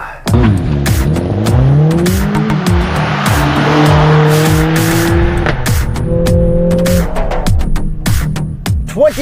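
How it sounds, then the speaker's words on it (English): A 2020 Mercedes-AMG CLA 45 4MATIC+ with its four-cylinder engine does a race-start launch, revving hard and climbing through rapid gear changes, loud and close with tire noise throughout. "'20 Mercedes AMG CLA 45. 4MATIC Plus with race start."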